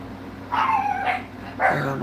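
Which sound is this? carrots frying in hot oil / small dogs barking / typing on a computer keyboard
small dogs barking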